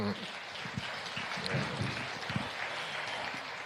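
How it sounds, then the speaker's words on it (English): Seminar audience applauding panelists with a soft, diffuse patter of many hands, moderately faint and steady, sounding like light rain across a hall. "Please, ladies and gentlemen, a final round of applause to our two panelists."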